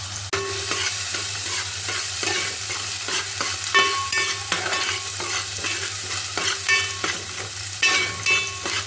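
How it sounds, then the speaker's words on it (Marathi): Sliced onion fries in hot oil in a pan for a banana flower vegetable dish, giving a steady sizzle under repeated scraping strokes of a stirring spoon. The sound is close and moderately loud, with no voices. "कांदा चांगला भाजून घ्यायचा गुलाबी लालसर होईपर्यंत"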